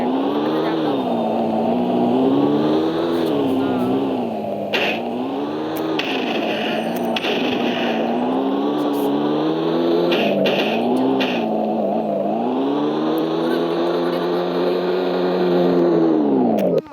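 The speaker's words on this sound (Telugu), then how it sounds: "ఇది కార్" A car engine revs and drones steadily in a Telugu-commentated shooting video game, holding a loud, continuous harmonic tone throughout with rises and dips in pitch as it accelerates, alone without talk.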